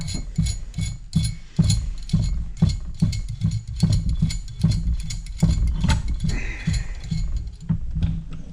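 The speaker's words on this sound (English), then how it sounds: "Turn that nut off there so we can set it back on" Wrench ratcheting a nut off an old Ford pickup steering column: dense, rapid mechanical clicking in quick repeated bursts, close and fairly loud, with no talking.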